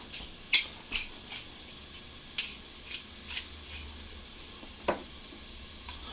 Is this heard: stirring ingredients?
yes